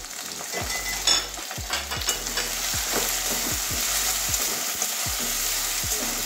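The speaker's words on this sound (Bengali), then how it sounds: "এবারে টমেটো কুচিটা দিয়ে দিচ্ছি।" Chopped tomato hits a pan of frying prawn curry and is stirred, giving a steady sizzle with repeated scraping strokes of a spoon against the pan, close up and with no talking.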